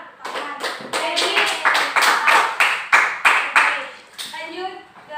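Classroom students clapping hands together in a rhythmic, patterned burst of about a dozen sharp, fairly close claps during an Indonesian lesson, followed by a brief voice.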